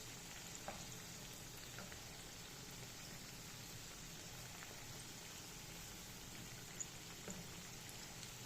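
Pakoras sizzle gently in hot oil just after being flipped, a faint, even crackle with scattered tiny pops, steady throughout with no voices.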